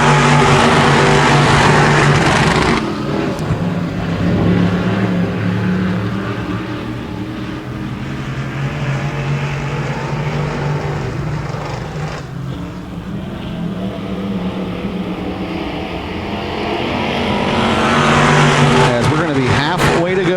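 Dirt track race cars roar around the oval at Genesee Sportsman during a heat race, a loud rising and falling engine drone with cars passing close. Excited race commentary runs over it throughout.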